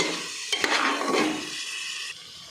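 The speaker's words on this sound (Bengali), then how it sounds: "তড়কার ডালটা খুব ভালো করে 2-3 মিনিট মশলার সঙ্গে কষিয়ে নেব।" Tarka dal is stir-fried with spices in a pan, giving a soft sizzle with scraping and stirring strokes from a utensil, close and fairly quiet, with no talking.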